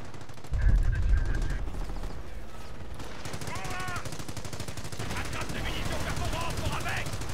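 Machine gun fire in the Company of Heroes World War II strategy game, a loud rapid rattling burst followed by steady continuous firing under battle noise, with voices talking over it.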